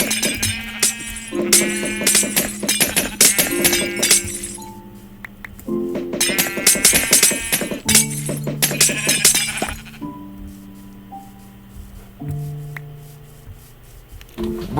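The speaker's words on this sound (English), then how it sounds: "Kill these sheep." Sheep in Minecraft bleat repeatedly in short, loud, wavering calls, mixed with sharp glassy clinks and hit sounds as they are attacked and killed, with brief quieter gaps between bursts.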